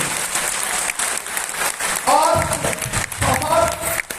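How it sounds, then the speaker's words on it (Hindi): Audience applause in an auditorium during a company marketing event, a short patter of claps rising around the middle and swelling again near the end, heard beneath someone speaking to the crowd. "ताली बजाना है तो ताली जैसा बजाइए, ताली की बेइज्जती मत करिए।"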